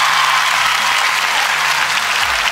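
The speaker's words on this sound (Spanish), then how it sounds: "Un aplauso para el señor Cristian Yaipen." Studio audience applause greets a guest arriving on a talk show, a dense and steady burst of clapping that stays loud and close for its whole length, with no voices over it.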